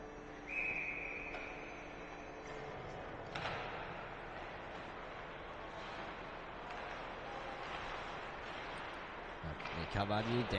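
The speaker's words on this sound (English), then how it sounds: "we'll go for a whistle" A referee's whistle sounds once, short and shrill, at a high school ice hockey game, heard faintly over crowd and rink noise while a commentator talks.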